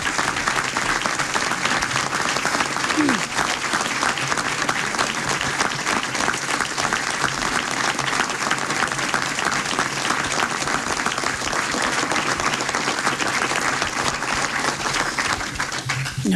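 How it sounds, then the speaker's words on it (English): A large audience applauds steadily for a governor's speech, a dense, continuous wash of clapping that stays loud and even throughout with no pauses. "No more clapping till I get through this"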